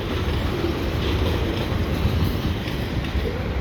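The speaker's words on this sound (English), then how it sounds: "As soon as this train passes," A CPKC westbound mixed freight train, led by ES44 and AC4400 locomotives, rolls past the St John's Blvd overpass on an autumn day, giving a steady, loud rumbling roar with wind buffeting throughout.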